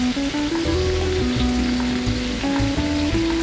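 Filet mignon fries in a hot pan, giving a loud, steady, close sizzle that runs without a break, while a low tonal hum drifts underneath.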